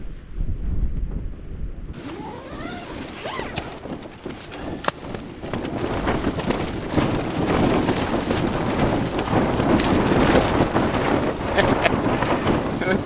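Strong mountain wind tears across a campsite around a tent, a loud gusting roar that surges and holds on after a quieter start.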